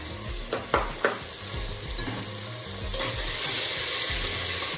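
Ginger garlic paste, a spoonful and a half, frying in a pan for a mutton curry: a steady close sizzle with a few sharp spoon scrapes and taps early on, the frying growing louder and fuller toward the end, no voices.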